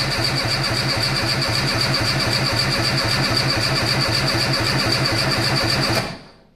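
A Peugeot 205 engine cranks without firing because its ignition coil is disconnected: a loud, close, steady rhythmic churning of the starter turning the engine over for about six seconds, then it stops abruptly.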